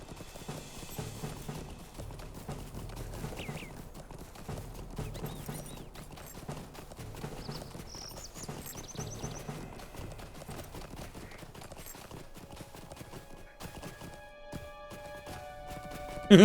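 Horse hooves clip-clopping in the game The Lord of the Rings Online as a mount travels through the Lone Lands, a steady, fairly quiet rhythmic beat of hoofbeats under faint game ambience, lasting the whole stretch.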